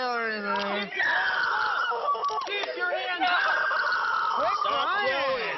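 A girl screams and cries in high, strained wails while police officers cuff her, her voice rising and falling continuously, loud and close, with brief breaks between outbursts.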